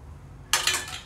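Two metal spoons clink sharply against each other and a pan while dropping palmyra fruit batter into hot frying oil, a bright sudden clatter with a brief scraping tail, close and alone.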